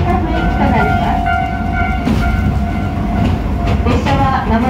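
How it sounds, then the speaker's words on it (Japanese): Aboard the Heisei Chikuho Railway Shiokaze sightseeing train near Mojiko, a continuous low rumble of the moving train fills the cabin, with faint rail clatter and tonal hums running steadily throughout. "列車は間もなく出水美術館駅に停車いたします。"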